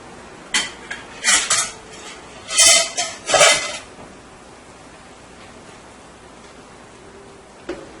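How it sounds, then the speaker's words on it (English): A browned beef roast is set into a pot with several clanks and metallic knocks in quick succession, then the kitchen falls quiet, with one last faint tap. "take my roast that I browned earlier, and I am going to place it into my pot"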